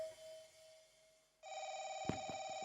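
A telephone rings nearby, a steady electronic tone that switches to a harmonic ringing pattern, with a few knocks under it, loud and alone.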